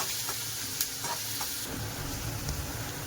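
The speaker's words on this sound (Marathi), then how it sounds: "चांगला परतून घेऊया कांदा." Onion frying in a pan for upma, a steady close sizzle with occasional faint stirring scrapes and no talking.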